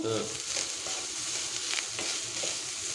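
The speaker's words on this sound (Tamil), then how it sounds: "இந்த சூட்லேயே தேங்காயும் போட்டு ஒரு பரட்டு பரட்டிக்கலாம்" Grated coconut stirred briefly in a hot pan after the stove is switched off, for a peas curry, a soft steady sizzle with light scraping stirs, close and alone.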